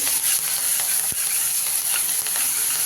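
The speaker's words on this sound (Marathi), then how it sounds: "हा जो लसूण आणि हिरव्या मिरचीचा ठेचा केला होता तो आपण परतायला टाकणार आहोत" Garlic and green chili paste with asafoetida frying in hot oil while being stirred, a steady loud sizzle with a few soft stirring knocks, close up and without talk.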